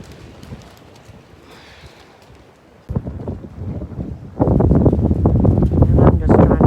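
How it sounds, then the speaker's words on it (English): Gusting wind of over 50 miles an hour on a cold morning, with trees blowing, roars against the microphone in surges that grow sharply louder partway through. "Winds are gusting over 50 miles an hour."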